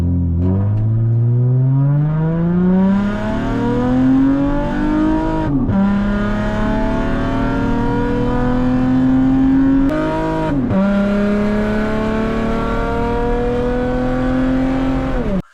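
A Ford Probe GT accelerates hard through the gears, its engine note climbing in pitch, dropping sharply at each of two upshifts, then climbing again; loud and close with no talking.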